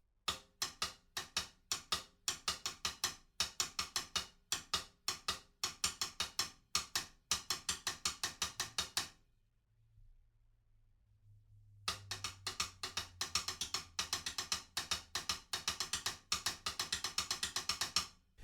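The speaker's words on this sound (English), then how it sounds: "we've got some kind of triplety ring clicks that sound a bit like this" Rapid triplet ride cymbal clicks from a song's bridge tick in a steady, close, dry pattern, stopping briefly for a low sustained tone before resuming.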